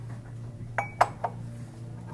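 Ceramic dishes and cups clink together as they are handled on a store shelf, giving three sharp, quick knocks close by over a quiet background hum.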